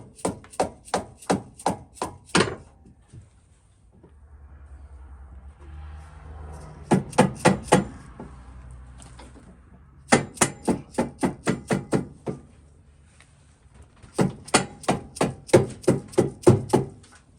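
A rubber dead blow hammer strikes repeatedly in quick bursts of sharp, close thuds while installing the rear wheel of a 2005 Suzuki C50 motorcycle, separated by pauses filled with faint shuffling and low rumble.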